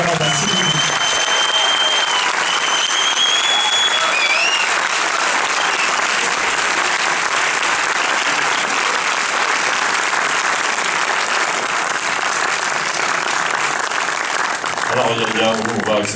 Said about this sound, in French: faites un maximum d'applaudissements pour Régal Bougueraba, s'il vous plaît.